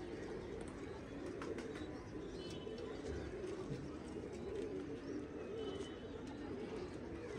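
Several pigeons kept for pigeon flying coo continuously at close range, a soft low burbling chorus with occasional faint chirps and light rustling over it.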